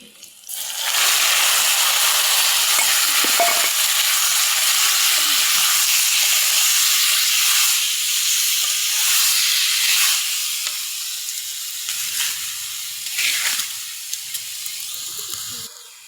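Chopped tomatoes go into a pan of spicy onions frying in oil, giving a loud, steady sizzle and hiss that runs nearly throughout, with bursts of crackle and some stirring.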